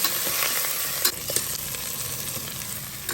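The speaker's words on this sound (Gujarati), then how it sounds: "તેલમાં બધું સતરાય છે મસ્ત." Stuffed green chillies and brinjal sizzle steadily in oil over a low gas flame, a continuous close frying hiss with occasional sharper crackles and a few stirring knocks.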